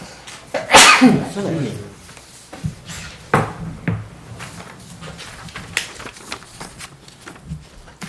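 A single loud, sharp sneeze bursts out near the start, followed by quieter room noises, shuffling and a few soft knocks.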